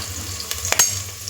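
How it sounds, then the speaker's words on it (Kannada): Green chillies and chopped onions fry in hot oil, a soft steady sizzle with a couple of quick stirring scrapes near the middle of the short burst. "ಸ್ವಲ್ಪ ಫ್ರೈ ಮಾಡಿ."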